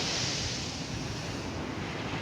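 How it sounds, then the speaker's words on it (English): Ocean surf rolls onto a shore, a loud, steady wash of breaking water mixed with strong wind buffeting the microphone, with no voices over it. "Look at the ocean right behind me."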